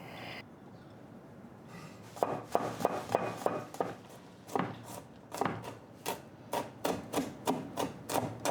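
Knife chopping black beans into smaller pieces on a cutting board in a home kitchen, a run of sharp, close taps in uneven bursts followed by a steadier, evenly spaced rhythm of strikes.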